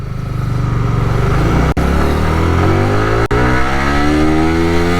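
A Yamaha motorcycle with VVA revving hard and accelerating in first gear, engine pitch climbing steadily through the rev range with two brief cuts as the throttle or gear shifts, loud and close.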